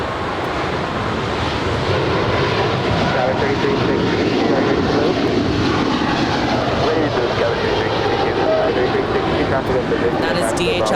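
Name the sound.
DHL Coletta Air Boeing 777 freighter departing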